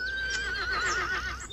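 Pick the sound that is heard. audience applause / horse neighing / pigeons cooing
horse neighing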